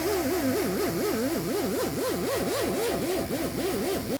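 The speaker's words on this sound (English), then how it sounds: "Oh, the air compressor's struggling. I hear it." An air compressor runs hard and struggles during floor pan rust repair, a loud droning motor with a wavering, cycling pitch that labors throughout before cutting off at the end.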